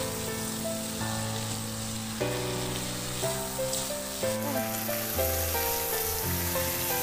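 Chicken cooking with tuyo and oyster sauce sizzles steadily in a pan as the sauce reduces, a soft constant crackle under louder background music.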